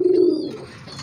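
A racing pigeon gives a single soft, low coo close by, fading out within a second.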